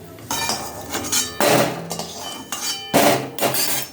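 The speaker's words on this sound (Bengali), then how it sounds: "এই যে বড়িটা লাল করে ভাজা হয়ে গেছে, এবার আমি বড়িটা তুলে নিচ্ছি।" Fried lentil dumplings (bori) are lifted from a pan of oil for a bitter summer dish, making a series of close metallic clinks and scrapes of a utensil against the pan in irregular bursts, with no talking.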